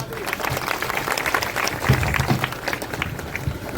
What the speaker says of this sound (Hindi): आप सभी लोग उनके इस्तकबाल में, उनके स्वागत में जोरदार तालियां